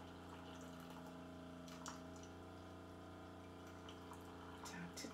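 A Keurig coffee maker brews, making a faint, steady pumping hum with soft gurgles of water, continuous throughout at low volume and with no talk.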